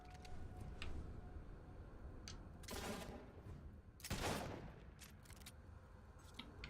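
Gunshots from Fable III, two faint sharp cracks heard far apart, each ringing out briefly over a low ambient bed.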